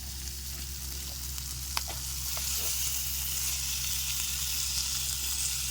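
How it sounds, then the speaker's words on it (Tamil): Chicken pieces fry in masala for ghee podi chicken in a pan, with a steady soft sizzle throughout and a few light clicks of stirring against the pan. "சிக்கனை நல்லா இதில் பரட்டிடுவோம்"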